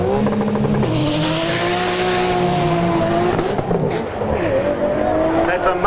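A Nissan Skyline launches hard down a drag strip, its engine roaring steadily loud and close with rising and falling pitch sweeps, while tires scrub and squeal through the run.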